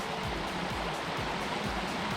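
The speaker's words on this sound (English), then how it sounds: "I love the sound of water." Running water of a stream in the Troutbeck Valley near Windermere, a faint, steady babbling rush with no talk.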